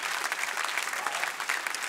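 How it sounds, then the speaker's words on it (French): Steady applause from a crowd at a political rally, dense and continuous clapping throughout with no voices standing out. "Donc un applaudissement pour tous ces acteurs."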